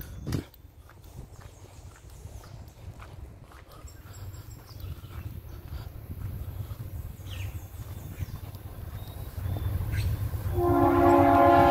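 A train passes through the riverside town of Itapina in Colatina, Brazil, its rumble building steadily from moderate to loud. Near the end, a horn sounds in sustained harmonic blasts over the rolling wheels.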